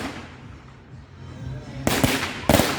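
Firecrackers burst outdoors on bonfire night in Europe: two sharp, loud crackling bursts close together near the end, after a low murmur of background noise.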